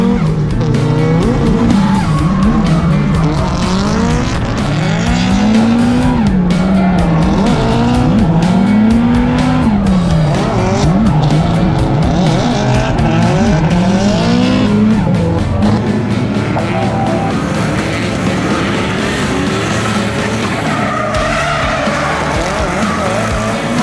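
A car's engine roars continuously during a team driving competition chase, rising and falling with gear changes while tires squeal and skid loudly throughout, with no one talking.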